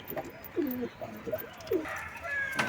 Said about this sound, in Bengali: চলো তার আগে পায়রাগুলোকে ছেড়ে দিই